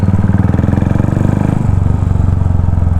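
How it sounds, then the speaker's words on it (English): Royal Enfield Continental GT 535 motorcycle exhaust idling close by, a loud, steady, rapid thumping burble with a brief blip of revs midway. "it's a Continental GT 535 Royal Enfield motorcycle"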